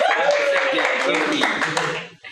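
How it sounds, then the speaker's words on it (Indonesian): A seated audience at an Indonesian industry association event claps in a brief, dense burst under a speaker's voice, fading quickly after about two seconds. "Silakan yang pertama ada Bapak Ari Uno, boleh tepuk tangan?"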